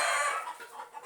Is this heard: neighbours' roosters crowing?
yes